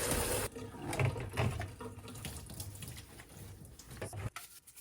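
Tap water running steadily into a Dyson vacuum part being filled for cleaning, a close continuous rush with some clatter that stops abruptly near the end.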